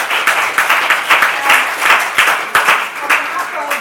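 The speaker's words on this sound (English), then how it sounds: "give them a round of applause" Audience applause after a nutrition and healthy-ageing talk, a steady wash of many hands clapping with rhythmic surges, fairly close and continuous throughout.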